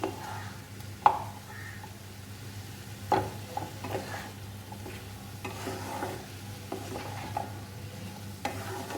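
Chicken with capsicum and chopped tomato is stirred in a pan over a low sizzle. A spoon scrapes and knocks against the pan every so often, each sound quiet and close.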